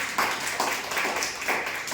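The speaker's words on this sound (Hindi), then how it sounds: "आइए हम एक जोरदार तालियों का हमारे परमेश्वर को दें।" Scattered hand claps ring out in a room at a Sunday church service, a loose burst of applause from a small group, fairly steady for a couple of seconds.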